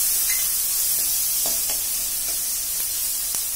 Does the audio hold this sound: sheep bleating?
no